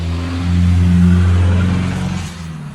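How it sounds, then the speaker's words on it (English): A loud car drives past a porch in Tennessee, its engine rising to a strong sustained drone as it nears and then fading away as it passes, heard alone with no talk. "I'm on my porch and there's cars that go by"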